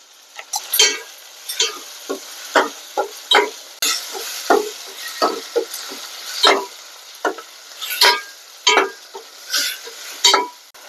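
Onions, tomatoes and turmeric fry in a pan for a village-style prawn curry, with repeated scraping stirs against a soft steady sizzle, the strokes coming in an uneven rhythm close by.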